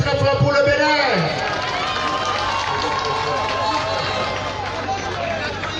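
An audience applauds at an award ceremony for a festival trophy in Benin: a voice briefly opens, then sustained clapping and crowd hubbub swell and continue steadily for several seconds.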